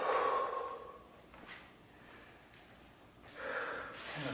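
Two loud exhales through the nose and mouth during a back and leg stretch in a barbell exercise routine, one at the start and another near the end, close and breathy.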